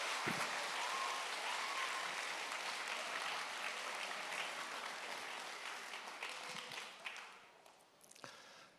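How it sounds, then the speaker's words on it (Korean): A church congregation at a summer retreat evening service applauds as the pastor enters, broad sustained clapping from many hands that gradually thins and fades toward the end, heard from within the room. "목사님 나오실 때 큰 박수로 모시겠습니다"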